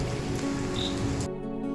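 Heavy rain pours outside as a dense, steady hiss of drops on surfaces, fairly close, then abruptly drops to a quieter, muffled wash near the end.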